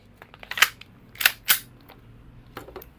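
E&C 1102 G17 G5 airsoft gas blowback pistol firing, three sharp, close cracks with hissy snaps of gas in quick succession, then a fainter click near the end, with no voices.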